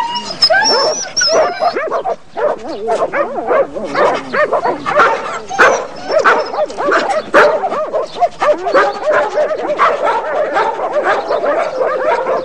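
Dogs barking and whimpering with yips and whines in quick irregular bursts, loud and close, with a voice briefly in the background.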